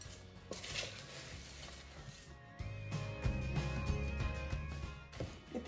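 Ground spices for chatpate being stirred and mixed by hand in a small bowl, giving repeated clinks and scrapes of utensil on bowl over a low background hum, with no talking.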